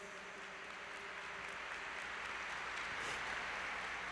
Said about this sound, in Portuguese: Aplaudamos com fé, com alegria, com amor a palavra de Deus.